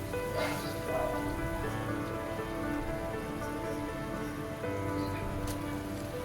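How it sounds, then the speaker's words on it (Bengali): Paneer masala gravy made with yogurt and a little added water simmers in a pan, giving a steady soft bubbling and sizzling hiss with faint crackles throughout. "সামান্য পরিমাণ জল অ্যাড করে এইবার সমস্ত কিছু ভালো করে ফুটিয়ে নেব।"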